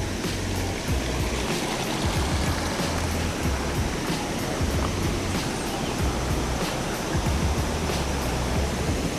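A small waterfall pours over a mini dam outdoors, making a steady, loud, broadband rush of falling water that continues unbroken throughout.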